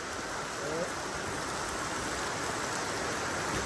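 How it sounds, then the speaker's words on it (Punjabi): Heavy rain falling hard on a hot day, a dense, steady, close roar of downpour that fills the whole stretch without letting up. "ਜਿੰਨਾ ਤੁਸੀਂ ਕਹਿ ਦਵੇ ਉਨੀ ਤੇਜ਼ ਮੀਂਹ ਪੈ ਰਿਹਾ ਆ ਦੇਖੋ"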